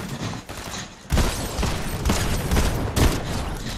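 Dense bursts of gunfire from a battle-royale shooter game, with a loud crackling barrage that breaks out after a brief lull and keeps going with sharp, close shots and heavy rolling fire.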